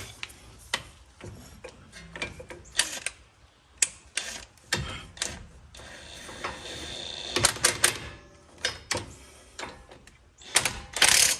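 An air impact gun works on the lug nuts during a brake job on a Ford Explorer Sport Trac in a home garage: short rattling, ratchety bursts and metallic clicks, with a longer hammering run near the end.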